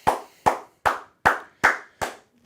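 Six sharp, evenly spaced hand claps ring out one by one, close and crisp, each fading quickly before the next.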